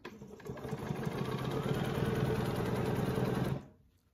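A sewing machine quilting along a ruler on a quilt with an orange peel grid design, running in a steady fast mechanical buzz for a few seconds before stopping abruptly.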